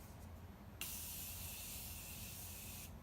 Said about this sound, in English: I want to set my face with this Morphe Continuous Setting Spray.